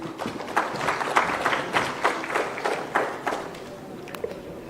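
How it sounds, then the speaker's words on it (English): Audience applause at a formal government event in Andhra Pradesh as a speaker is invited forward, many hands clapping in a steady wash, moderately loud in a large room, then tapering off. "Round of applause, please, ladies and gentlemen."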